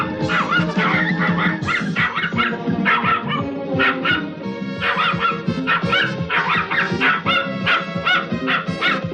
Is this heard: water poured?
no